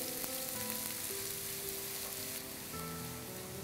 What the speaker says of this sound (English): Sauté till it becomes translucent